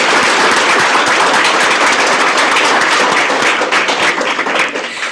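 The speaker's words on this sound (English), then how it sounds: "Let's give them all a round of applause." Loud, dense applause for graduates of a leadership development program at a graduation ceremony, with rapid crowd clapping that stays steady throughout and thins slightly toward the end.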